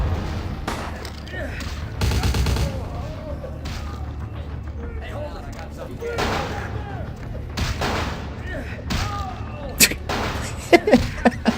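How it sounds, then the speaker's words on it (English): Shotgun blasts in the Vampire: The Masquerade - Bloodlines video game, a few loud booming shots spaced several seconds apart, heard over someone talking throughout. "This is a shotgun."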